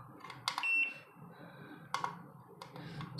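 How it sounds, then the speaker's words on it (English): Short electronic key beeps from a SkyRC IMAX B6 V2 battery charger, a few quick chirps spread out over a low background hum. "when we press the buttons on the charger, we won't hear the beeps"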